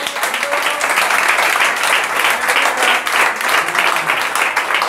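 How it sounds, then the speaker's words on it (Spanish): A church congregation breaks into sustained applause during a sermon, a dense, steady wash of many hands clapping at once, loud and continuous with no voices standing out. "un aplauso"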